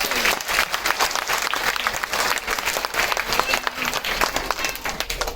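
Loud, sustained applause from a crowd at a school's annual function, dense clapping throughout with some voices mixed in.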